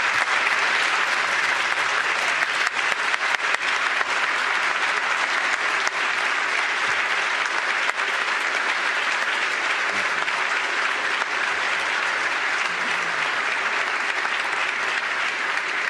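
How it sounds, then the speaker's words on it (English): Sustained applause from a large audience at the governor's State of the State address, dense and steady throughout, loud and close with a faint murmur beneath. "Please join me in applauding her years of service to this state."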